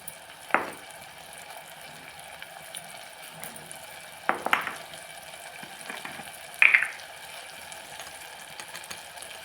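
Spices tipped into vegetables frying in a pan for a Malvani vegetarian thali, a steady soft sizzle with three brief louder clinks or scrapes, no talking.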